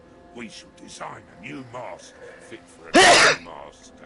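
A single loud, sharp sneeze bursts out close to the microphone in the middle of a stretch of steady talking, and the speech carries on around it.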